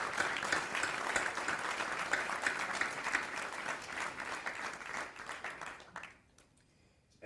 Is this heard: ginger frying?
no